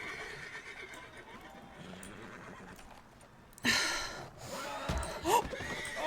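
Horse in the Western video game RedM (Red Dead) whinnying loudly and close near the end, after a quieter stretch of game ambience with faint hoof sounds.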